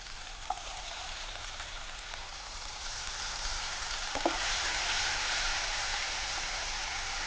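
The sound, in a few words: sautéing onions and tomato in a pan for sambar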